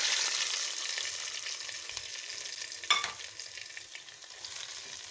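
Onion tempering (pyaz ka baghar) sizzles loudly as it is poured into Punjabi sarson ka saag, mustard greens; a steady bright hiss with a sharp splash near the middle that then settles back into sizzling.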